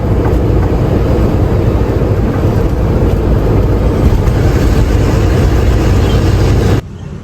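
A lorry engine runs at a loud, steady idle close by while the truck is being parked, the constant rumble cutting off abruptly near the end.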